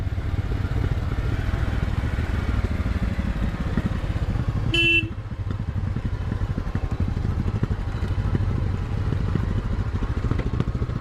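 A Bajaj Avenger 160 motorcycle rides through very heavy rain, its engine drone steady under a wash of rain noise, with a brief horn toot midway.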